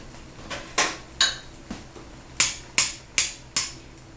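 Sharp little pops and crackles of cranberries bursting as they cook for sauce burst irregularly over a soft background hiss, about eight distinct snaps, close and crisp.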